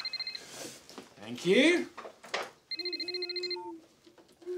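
A telephone in a cartoon household rings in two bursts of an electronic trilling ring, with a voice and other speech between the rings.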